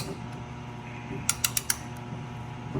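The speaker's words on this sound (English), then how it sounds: "if you got one of these ratchet tools, which are pretty good, just go like that, and it ratchets" A ratchet tool works to compress the rear brake caliper piston on a 2016 GMC/Chevy 1500, making four quick metallic clicks in an even rhythm over a quiet shop background.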